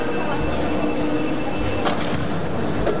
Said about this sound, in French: Le métro, on n'échappe pas.